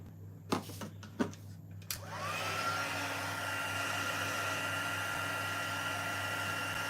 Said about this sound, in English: then I'm going to grab my heat tool